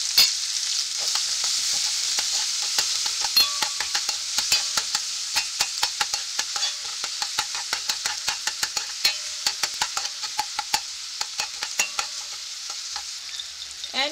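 Ginger and onion fry for egg tinola in a pan, a steady sizzle broken by frequent sharp clicks of stirring, close and moderately loud with no voices.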